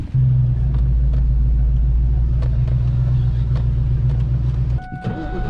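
A Cobra sports car drives along, its engine a heavy, steady low rumble heard from inside the cabin before it suddenly drops away near the end, leaving a brief electronic tone.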